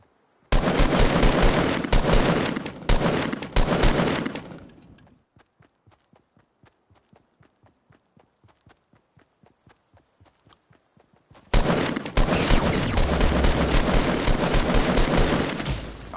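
Dense Fortnite gunfire bursts in rapid volleys, a loud barrage for several seconds, then sparse quiet ticking shots, then another sustained heavy burst of firing.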